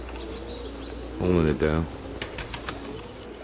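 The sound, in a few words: pigeons cooing in a backyard coop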